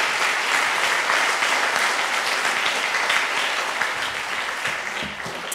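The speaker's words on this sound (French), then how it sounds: "je vous demanderai d'applaudir Dr Beaulieu, notre conférencier." Warm, even applause from a conference audience greeting a doctor invited as the speaker, continuous clapping without talk that tapers off gently in the final second.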